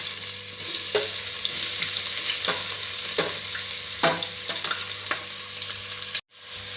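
Onions fry in a pan for biryani with a dense, even sizzle and a few soft stirring scrapes, close and steady, until the sound cuts off abruptly near the end.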